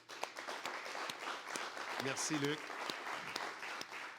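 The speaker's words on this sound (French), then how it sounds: "On l'applaudit bien fort." Audience at a Québec innovation conference applauds an executive invited to the stage, with scattered, fairly quiet clapping under a man's brief spoken thanks, and sharp individual claps standing out from the crowd.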